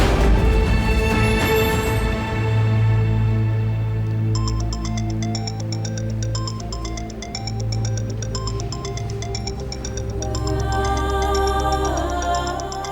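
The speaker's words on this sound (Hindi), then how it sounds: "देखो, बाबा का फोन है।" A phone ringtone chimes in a repeating melodic pattern, mixed with steady background music, no voices.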